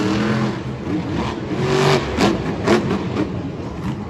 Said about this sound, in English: Bari Musawwir, such great control of that Zombie truck